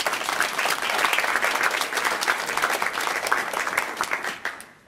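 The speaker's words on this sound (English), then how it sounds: "I just want to take a moment to give them a round of applause." A law school lecture audience gives a steady, full round of applause that holds for nearly five seconds and then tapers off at the end.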